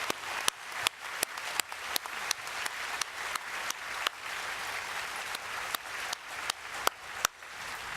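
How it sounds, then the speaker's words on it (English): An audience at a fall nursing pinning ceremony applauds Wallace State faculty and staff, steady dense clapping filling the hall for the full stretch with sharper individual claps popping out above the crowd's wash. "Please join me in applauding this amazing group of Wallace State faculty and staff."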